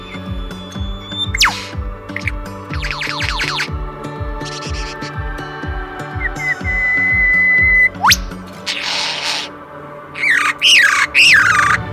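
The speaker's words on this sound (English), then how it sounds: "I got to get the infamous laser beam bird on film, also known as the superb lyrebird." A superb lyrebird calls in Australian bush, a loud close run of repeated rapid mechanical chirps, descending laser-like zaps and whistles, followed by harsher squawking bursts near the end.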